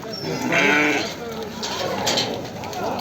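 Sheep bleat loudly and close by at a livestock market, a few wavering calls overlapping, with people talking in the background.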